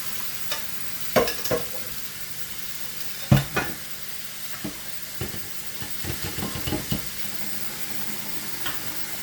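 Ground meat cooking in a pan as it is stirred, with a steady low sizzle broken by scattered scraping and clattering strokes of the utensil, close and moderately quiet.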